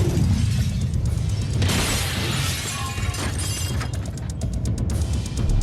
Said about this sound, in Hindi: बूम, जोर का धमाका और मिशन accomplished